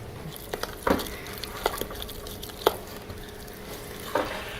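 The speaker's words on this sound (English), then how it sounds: "then I add all of the chocolate chips and stir it until it's smooth" Spoon stirring chocolate chips into thick fudge mixture in a pot off the heat, a few soft scraping knocks spaced irregularly over a quiet background, close and fairly faint, no talking.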